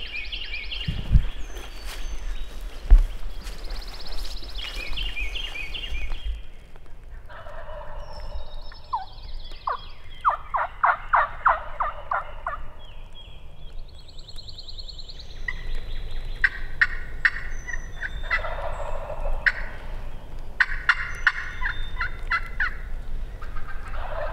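Wild turkeys gobble in repeated bursts at a moderate distance outdoors, with soft footsteps and rustling in between.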